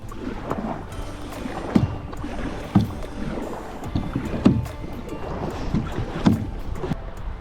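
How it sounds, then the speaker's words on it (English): Kayak paddled across a lake toward a marina: rhythmic paddle strokes splash and swish about once a second, close and moderately loud over light wind and water noise. "given that my time limit is almost up with the kayak, I'm gonna start heading back into the marina"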